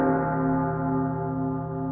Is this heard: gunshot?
no